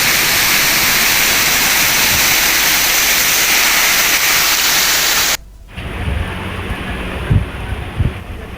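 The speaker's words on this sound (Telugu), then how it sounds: "ఉరుములు మెరుపులు బలమైన ఈదురుగాలులతో కూడిన వర్షం బెంబేలెత్తించింది" Heavy rain in a thunderstorm with strong gusty winds pours down in Hyderabad as a loud, dense, steady roar, then cuts off abruptly to a quieter scene with low rumbling thuds.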